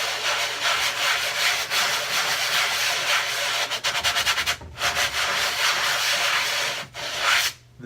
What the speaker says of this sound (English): the first thing we want to do is lightly sand